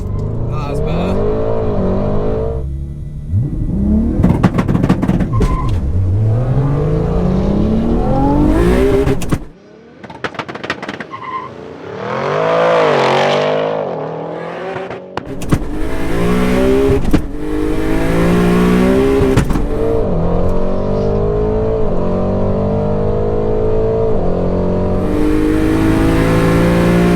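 A 1080HP turbo R32 Golf and an 830HP Audi RS6 drag racing, with loud engines revving and screaming through rising gear pulls, a brief lull, then more hard acceleration runs, with people talking at times.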